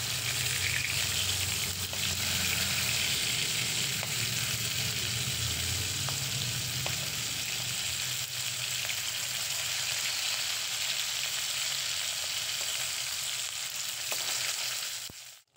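Saiding fish sizzle as they fry in hot oil in a pan, a steady loud crackle and hiss held throughout and close by, fading out at the very end.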